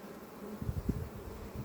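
Honeybees swarm over an opened Dadant beehive, giving a faint, low, steady buzzing hum with a few soft bumps of hive handling and no voices.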